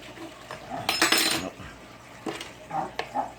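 A utensil stirs potato soup in an Instant Pot, giving scraping and clinking against the metal pot in a couple of short bursts, with quieter knocks and shuffling between.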